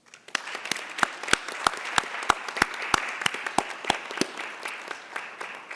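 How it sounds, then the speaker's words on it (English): A graduation ceremony audience gives a round of applause. The individual claps are sharp and distinct and fall in a quick, fairly regular rhythm. The sound is moderately quiet, with a few nearer hands standing out. "So let's also give them a round of applause."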